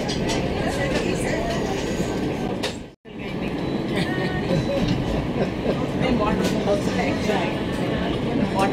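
A Rocky Mountaineer passenger train runs on the rails with a loud, continuous rumble and clatter that dips briefly for a moment before resuming, steady and close throughout.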